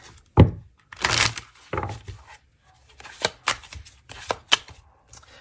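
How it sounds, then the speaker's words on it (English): Tanielu tarot cards being shuffled and drawn: a sharp snap, then bursts of riffling and soft slaps as cards are handled and laid down, close and alone, no talking. "I'm going to pull from my TANIELU tarot"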